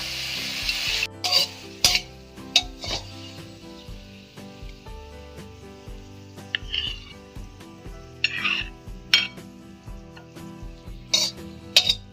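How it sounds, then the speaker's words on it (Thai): Spinach stir-fried with garlic in a pan: a soft, continuous sizzle broken by sharp, intermittent scraping and clanking strokes of a spatula, close up, with music playing underneath. "เราผัดกับกระเทียมเฉยๆ นะคะ"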